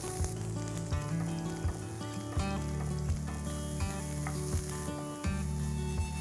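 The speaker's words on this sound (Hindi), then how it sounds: "जैसे ही राई क्रैकल करने लगेगी हम पैन में कांदा डालेंगे।" Onions sizzle in a pan of hot oil with mustard seeds, a dense continuous frying hiss with regular knocks of a stirring spoon and a steady hum beneath.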